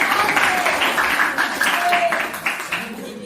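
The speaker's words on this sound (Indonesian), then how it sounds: "Tepuk tangan dong buat Khalifah" Scattered clapping from a class or small group during an Indonesian school coaching session, moderately loud and uneven, mixed with voices and a few children's shouts over the applause.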